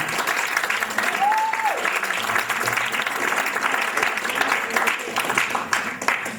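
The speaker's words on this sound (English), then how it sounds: "Let's give him a big round of applause, please." An audience at a jazz concert gives Dr. Vincent a round of applause, a sustained wash of clapping with a brief whistle early on and faint voices mixed into the crowd.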